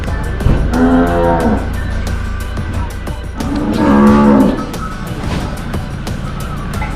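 Cattle on a farm in Sisaket, Thailand, where two loud, drawn-out moos sound close by over a steady low rumble from passing vehicles.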